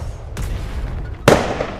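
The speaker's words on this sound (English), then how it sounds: "Firework! Firework! Firework!" Fireworks burst in the survival sandbox game Atlas: two sharp explosive cracks, one faint early and a louder one near the end, over a steady background bed.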